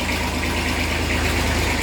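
An old Massey Ferguson tractor engine, a Massey 35 or 245 DI, runs steadily at close range with a loud, even low throb and a fast regular knock, with no talking.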